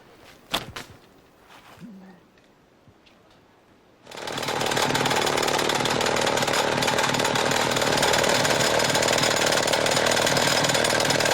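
A power tool drills a hole into a hard block of Guatemalan jade to try to split it; after a few quiet seconds and a couple of knocks it starts up abruptly and grinds on loud and steady.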